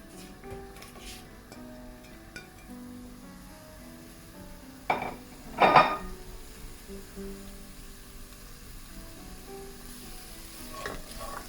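Steady sizzling of onion and curry leaves frying in a pan, with a couple of louder bursts of stirring and scraping midway.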